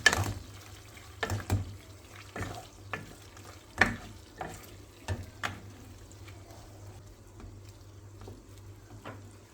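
Kavurma meat cooked with mineral water, seasoned with thyme, red pepper powder and black pepper, is stirred in a pan. A soft low sizzle runs under irregular spoon scrapes and knocks, with no talking.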